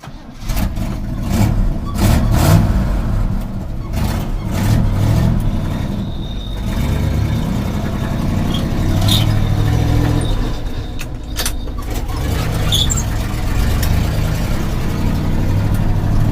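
An old 1960 Chevy pickup truck engine runs steadily close by with a rough, rumbling drone, along with occasional clicks and rattles over the constant hum.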